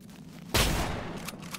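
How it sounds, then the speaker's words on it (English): Shotgun fire in the horror video game Nightmare of Decay: one sudden loud blast after a brief quiet lead-in, its decaying roar carrying through the rest, with faint smaller impacts trailing behind. "it takes 2 shotgun shots to even kill"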